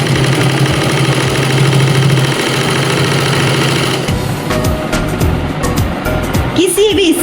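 A sewing machine stitches the side seam of a pair of trousers, whirring loudly and steadily at close range for about four seconds before stopping, after which a voice talks over quieter handling noises.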